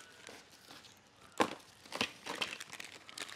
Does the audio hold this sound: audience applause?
no